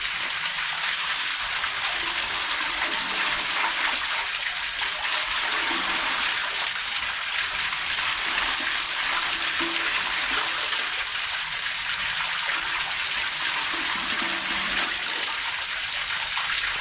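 Clear spring water gushing forcefully from an outlet into a cup in Lancaster County, a steady loud splashing rush that runs without a break, with no talking.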